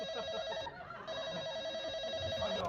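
A telephone rings with a steady electronic trill, briefly pausing and resuming, loud and close over faint room noise in an Indonesian comedy scene set at a hotel.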